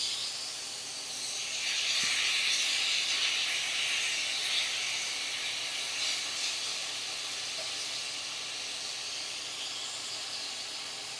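Burgers pressed down in a hot pan give off a steady, broad sizzle that swells briefly and then holds, close and even, with no talking.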